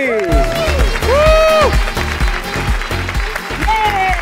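A studio audience at an Eid television show applauds beneath loud, excited voices calling out, the clapping a busy crackle under the shouting hosts.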